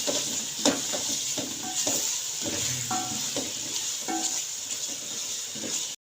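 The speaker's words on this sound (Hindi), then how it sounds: "हम टमाटर और मिर्चियाँ इकट्ठी डाल देंगे हम। इससे 1 to 2 मिनट हम पकाएंगे" Tomatoes and chillies sizzle in a spicy masala for a turnip and peas curry, with a steady close-up fry and light stirring and scraping scattered throughout.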